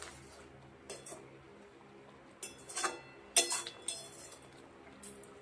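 Mango pickle being stirred with vinegar in a pot, a utensil knocking and clinking against the metal in a few scattered, close strokes with quiet gaps between them.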